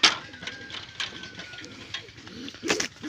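Young pigeons cooing softly in a loft, with low murmuring calls under steady background noise and a brief rustle near the end.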